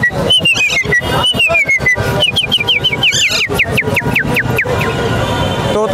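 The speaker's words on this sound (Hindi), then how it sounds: "पहले सिटी बजाएं आज।" A man whistles at a Sunday bird market in Karachi, sharp rising and falling whistles repeated in quick bursts over a busy background of parrot chirps and voices.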